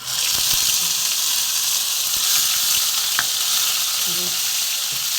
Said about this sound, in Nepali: यो अदुवा लसुनको ग्रेभी म यहाँ फुराउँदैछु